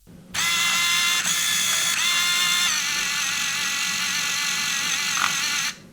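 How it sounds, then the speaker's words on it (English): Camera lens autofocus motor, on an inexpensive lens, whirring and grinding loudly up close in one continuous burst of about five seconds, with a slight ticking change partway through. "the noise that comes from the autofocus motor"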